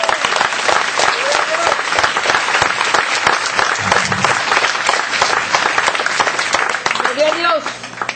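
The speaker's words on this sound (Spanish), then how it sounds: "Dale un aplauso al Señor." A church congregation breaks into loud, sustained applause that fills the room as a dense wash of clapping, with voices calling out over it.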